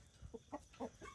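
A chicken at a farm animal sanctuary gives a few short, faint clucks in a choppy, uneven burst, close but quiet, with no talking.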